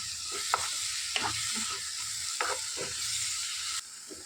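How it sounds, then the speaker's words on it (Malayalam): A spoon scrapes and stirs through a thick egg curry with ground tomato in a pan in irregular strokes, over a soft constant sizzle. "ഇളക്കുകയാണ്"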